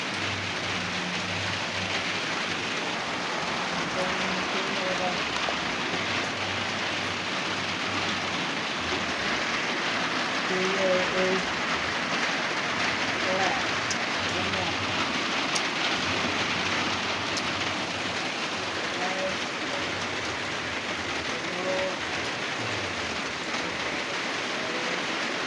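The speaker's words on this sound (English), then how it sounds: "You see guys, the rain is not very big." Light rain falls steadily in a constant soft hiss, with faint scattered patters and no voices throughout.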